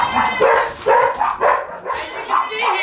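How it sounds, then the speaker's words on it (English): Several dogs bark and yip close by in a house, with repeated overlapping barks in quick succession, while a bird screams in the background. "all the dogs are barking"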